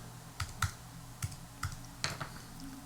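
Sparse keystrokes on a computer keyboard while a zip code is entered into a Medicare plan search, several separate clicks spaced irregularly, close and fairly quiet with no voice.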